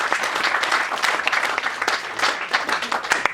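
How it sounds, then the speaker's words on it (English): A hypnotist show audience breaks into steady, dense applause, many hands clapping at once close by and evenly loud throughout, with no voices rising above it. "Can you give me a round of applause, please?"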